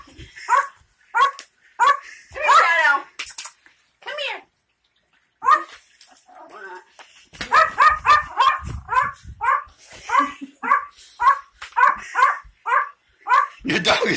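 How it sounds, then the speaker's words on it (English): A dog barking near the microphone in repeated sharp bursts, first in a short series, then after a pause in a longer, steady run of barks, with people talking in between. "He is going to start barking."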